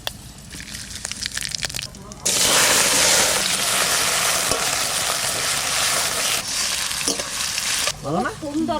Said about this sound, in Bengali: কড়াইতে তেল দিচ্ছি শুকনো লঙ্কা তেজপাতা জিরে